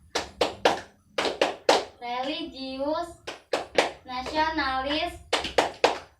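A group of children and adults claps the PPK rhythmic clap, sharp hand claps in quick sets of three alternating with chanted words, close and lively.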